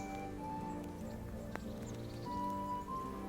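Horse hooves clip-clopping with a brief whinny in the medieval game Kingdom Come: Deliverance, a quiet steady clatter under a low tonal music bed, with a faint voice in the background.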